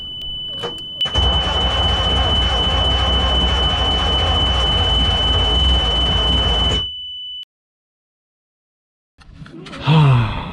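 A long-dead diesel engine cranks steadily for about six seconds with a loud, grinding starter drone and a steady whine, then stops without catching; a brief breathy sound follows after a silence.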